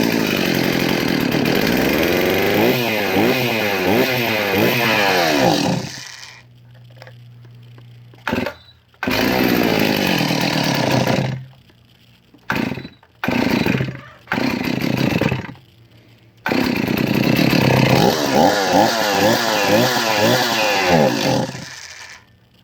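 A Stihl 038 Magnum chainsaw under restoration, with a suspected carburetor fault, roars loudly in close revving bursts, cutting out to silence and restarting several times between sputtering stretches.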